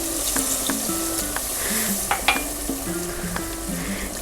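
A cup of water is poured into chicken pulao cooking in a pot, setting off a steady loud sizzle and bubbling with the splash of water, alone without talk.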